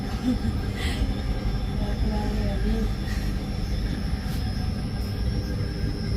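Train ride heading for Alappuzha, a continuous low rumble of rolling wheels with faint rattles and brief higher squeals, steady and close throughout.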